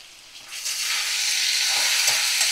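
Thin fish curry with salt cooking in a pan, a quiet start swelling into a loud, steady close-up sizzle and bubbling hiss that holds to the end, with a few soft scrapes.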